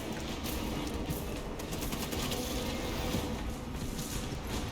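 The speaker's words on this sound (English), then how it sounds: "Oh, that's the bolt carbine." Bolt carbine firing in a Warhammer video game: a dense, continuous stream of loud, rapid shots with no pauses, close and steady throughout, with no voices.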